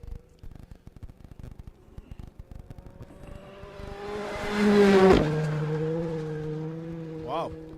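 A rally car races past on a gravel special stage at Craik. The engine note swells as it approaches, peaks loud and close with a sharp pitch drop as it passes, then fades away.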